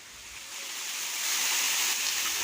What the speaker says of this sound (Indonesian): Dan inilah air terjun Sumber Waringin yang berada di jalur pendakian Gunung Lorokan, Pacet, Mojokerto.